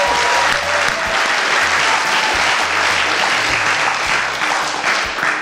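Studio audience breaking into loud, sustained applause, a dense wall of clapping that stays steady and close throughout.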